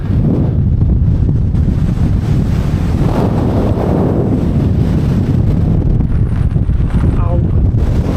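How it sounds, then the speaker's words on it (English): Freezing wind in the Southern Uplands near Saddle Yoke buffets the microphone in a loud, continuous roar with surging gusts, and someone talks over it. "It's a little bit windy"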